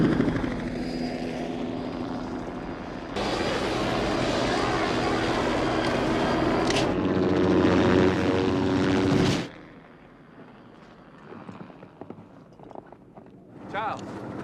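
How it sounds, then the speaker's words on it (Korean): Loud, steady rotor and engine roar of a helicopter chasing a dog toward a base in a horror film scene, continuing for several seconds before cutting abruptly to quieter ambience with faint voices. "따라오던 헬기도 착륙하고"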